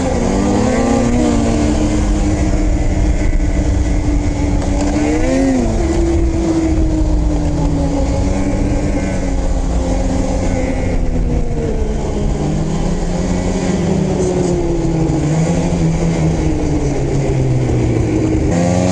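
A Polaris Switchback Assault 850 snowmobile engine revs and pulls steadily, its pitch climbing and dipping as it accelerates, loud and close throughout with no talk.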